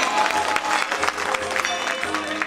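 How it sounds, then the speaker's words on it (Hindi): Listeners at a live folk stage show featuring singers Sunita Sah and Madhav Rai break into applause, a dense, steady patter of many hands clapping together over a faint low hum. "एमरो से एक ताली भ जाए तो बहुत नीक रहते ने"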